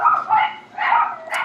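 A dog barks three or four times in quick succession, fairly loud and close, with sharp, slightly yappy barks and nothing else around them.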